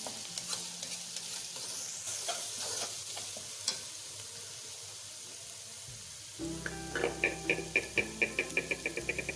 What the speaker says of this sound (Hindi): लहसुन की स्मेल खत्म होने तक इसको भूनेंगे।